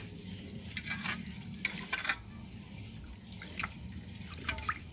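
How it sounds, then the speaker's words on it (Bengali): Rice grains are squeezed and rubbed by hand in water in a cooking pot, giving soft, intermittent wet squelches and splashes at close range. "আবারও আমি দেখুন চালগুলো এইভাবে চটকে নিচ্ছি"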